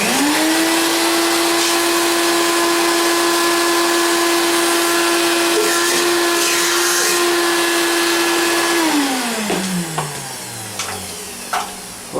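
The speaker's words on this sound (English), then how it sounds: "I want to take my vacuum, sweep around a little bit, make sure no debris gets down in my cylinders." A vacuum cleaner sweeps around the engine intakes while a single Weber 40 IDF carburetor is being fitted. It gives a loud, steady whine that powers down near the end and winds to a stop, followed by a few light knocks.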